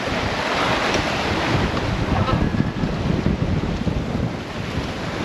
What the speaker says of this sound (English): now they're more of that classic long rolling ocean swell